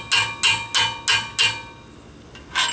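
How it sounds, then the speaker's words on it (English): Sharp metallic blows of a hammer striking a bolt ring out in a steady series of about six strikes, then a pause and one more, close by with no voices, on a Jeep Wrangler YJ. "put your bolt in there first, then hit the bolt with the hammer."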